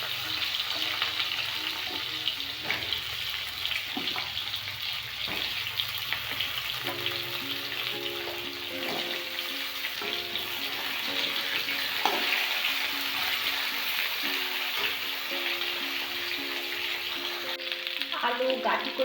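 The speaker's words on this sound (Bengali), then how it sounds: "আলু বাটি একটু দুটোই ভেজে নিলাম" Potato and taro pieces frying in hot oil tempered with cumin seeds make a steady, close sizzle, with occasional clinks and scrapes of stirring throughout.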